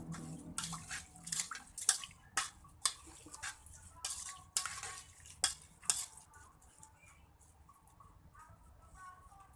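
A spoon stirs rice with seasoning in a pot while nasi uduk Betawi is being made, giving a run of clinking, scraping strokes in a steady rhythm that fades toward the end, close and fairly quiet.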